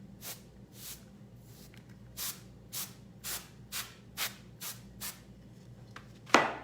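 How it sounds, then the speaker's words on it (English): A series of short hissing sprays of alcohol ink, about ten quick bursts at an uneven pace, close and fairly quiet, followed by a sharper noise at the end. "we're gonna spray this because it's not behaving"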